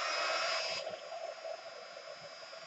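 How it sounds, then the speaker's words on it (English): A hair dryer blows steadily, close and fairly quiet, drying glossy accents on an altered craft tag; its pitch drops slightly after a moment as the airflow shifts, then holds as a continuous whoosh. "I'm just going to dry this now because I need this to be bone dry"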